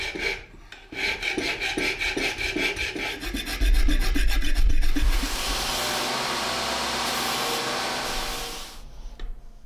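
A hand file works a forged katana steel blade, first in a quick run of rhythmic rasping strokes, then in a continuous loud scraping that tapers off at the end, with no talk.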